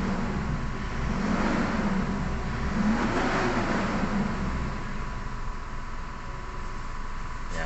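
A Mitsubishi Montero Sport with a suction control valve fault and check engine light revs but stays held to about 2000 rpm in low power mode, giving a steady, fairly loud engine drone that swells slightly and then settles.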